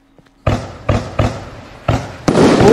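Dark Angel fireworks cake going off in Fireworks Mania, a string of five loud booming bursts at a quick, slightly uneven pace, the last one swelling into a sustained crackling roar.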